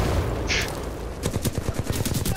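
Rapid automatic gunfire in Titanfall 2 combat, a dense burst of repeated shots in quick rhythm following a brief sharp report, loud and close.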